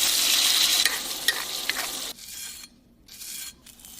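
A salmon fillet sizzles loudly in melted butter in a hot pan; the steady hiss drops suddenly after two seconds to a quieter crackle broken by brief silences.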